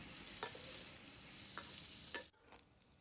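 Steady sizzling of pork belly frying in a pan until crisp, with a few sharp scrapes of a spatula stirring before the sizzle suddenly drops away near the end.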